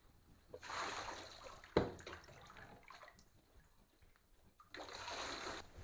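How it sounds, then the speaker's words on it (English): Water is scooped with a cup and poured over a boxer puppy in a bathtub. Two bursts of splashing and sloshing, each about a second long, sit at the start and the end, with faint drips between them. "I'm gonna get him wet with the cup."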